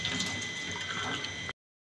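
Water runs steadily over a cleaned fan motor during rinsing, a soft continuous splashing hiss that stops abruptly.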